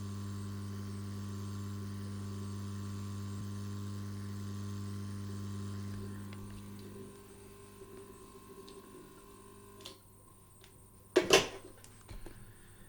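A heat gun set to 165 degrees Celsius, used on a Swatch Chrono watch case, runs as a steady droning hum for about six seconds, then cuts off, leaving quiet room tone with a sharp knock near the end.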